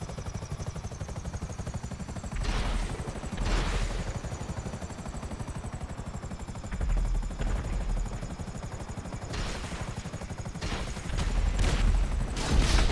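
Helicopter crash in Grand Theft Auto V: a constant rotor drone runs throughout, broken by several loud, sharp impact bursts spaced a few seconds apart, with no one talking.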